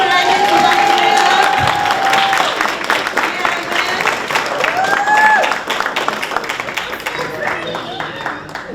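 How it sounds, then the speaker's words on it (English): Applause and scattered cheers from a crowd at a construction-program graduation ceremony honoring a graduate, clapping rising and thinning over several seconds while voices and whoops cut through the mix. "Let's keep applauding for Mr. Ivan."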